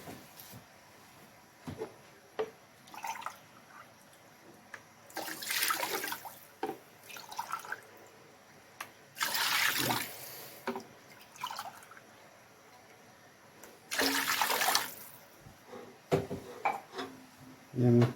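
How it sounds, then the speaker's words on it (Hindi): Water is poured from a cup into a pot for jaggery rice in a home kitchen, several separate gushing pours spaced several seconds apart, with small clinks and drips in between. "ये हमने 4 कप पानी डाल लिए।"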